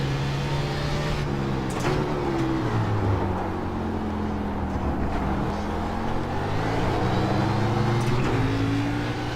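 An Xfinity race car in the iRacing sim at Laguna Seca, with a steady engine drone whose pitch climbs and falls through gear changes, loud and continuous throughout with no talk.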